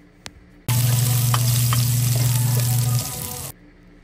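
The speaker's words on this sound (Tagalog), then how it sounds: "Kainit na ding aton nga kaldero, ibutangan ta na ni sang aton nga oil. Isunod ta ng aton nga bawang," Garlic hits hot oil in a cooking pot for chopsuey and bursts into a loud, steady sizzle. It crackles for about three seconds, then cuts off abruptly.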